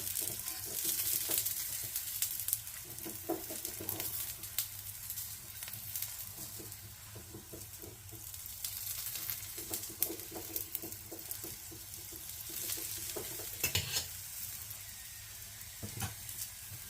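Paratha frying in ghee on a pan, its thick edges also coated with ghee, gives a steady close sizzle with soft patters and occasional scraping clicks as it is turned slowly.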